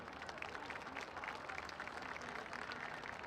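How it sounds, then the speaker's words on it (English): Applause for honorees at a St. Pius X High School varsity football game, a faint, distant spread of crowd clapping across an outdoor stadium, steady for a few seconds. "another round of applause, please, for all recognized tonight here at St. Pius X High School"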